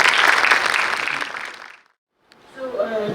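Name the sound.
audience applause welcoming speaker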